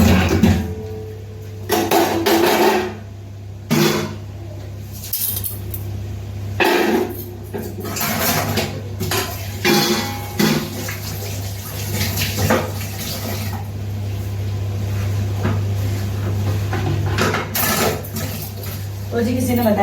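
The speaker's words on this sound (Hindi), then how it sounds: "इसलिए मैं यहीं पे बर्तन धोती हूँ" Dishes are washed by hand under a running tap, with bursts of splashing water and clinking pots and plates that start and stop irregularly over a steady low hum.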